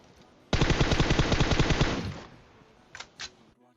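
Automatic rifle fire in PUBG Mobile, a rapid burst of loud shots lasting about a second and a half, then a pause and two brief fainter bangs.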